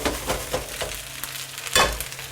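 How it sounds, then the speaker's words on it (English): Burgers and chips tipped onto a baking tray preheated in the oven sizzle close and loud, with scraping stirs and a sharp crackle near the end, and no talk. "As you can hear, it's sizzling because the baking tray has been in the oven, so it is nice and heated."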